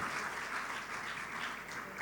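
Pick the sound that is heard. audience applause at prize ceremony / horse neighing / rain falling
audience applause at prize ceremony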